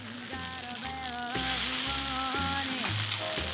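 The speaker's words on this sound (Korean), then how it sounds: "종이장처럼 납작한 만두가 달군 철판에 올려져 구워지는 소리부터 아주 맛깔납니다" Thin flat dumplings frying over high heat on a hot iron griddle at a street food stall, a loud continuous sizzle and crackle, with a brief voice or tone briefly rising over it.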